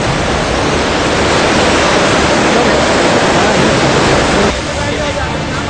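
The swollen Ganga in flood roars with a loud, steady rushing wash of water that fills the whole stretch, easing slightly near the end; no one speaks.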